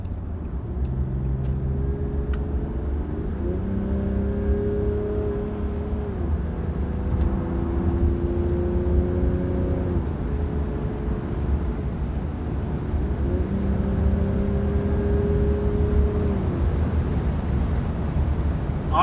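A steady engine hum from inside a moving Land Rover Defender D300 SUV, with rising tones as it accelerates through gears and shifts, over constant road noise.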